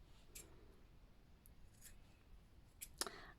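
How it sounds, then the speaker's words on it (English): Scissors snipping fabric corners off a collar piece at a 45-degree angle; a few faint, brief snips scattered across a quiet room, with a sharper cluster of cuts near the end. "I still have to cut the corners off at an angle"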